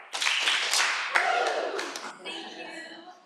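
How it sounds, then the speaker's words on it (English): At a school board meeting, a team gives a few loud, close, sharp claps in unison for the commissioner and a guest. A chorus of voices follows with a rising whoop that tails off, mixed with scattered talk. "I'd like my team to give Commissioner Kimbrough, who's standing in for the commissioners, and Ms. Ariola 3 claps and a woo"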